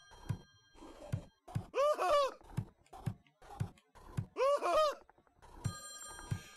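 Short repeated warbling bursts of a telephone ringing in Friday the 13th: Killer Puzzle, heard twice at moderate loudness among soft rhythmic thumps and game effects.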